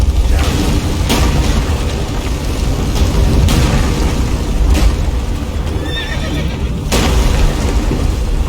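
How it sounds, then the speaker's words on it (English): Repeated booming explosions burst through a dense, loud battle din in the video game Witcher 3, with horse neighs and hoof clatter mixed in and no talk. "So many explosions."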